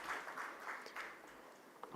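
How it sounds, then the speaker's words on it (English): Audience applause at a national mines ministers' conference, a steady wash of clapping from a hall crowd held at moderate level for two seconds with no talk over it. "A big round of applause, please."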